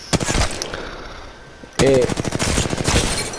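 Rapid bursts of automatic fire from the Alternator gun in a shooter video game: two loud, tightly spaced volleys separated by a short pause, with a voice briefly speaking at the start.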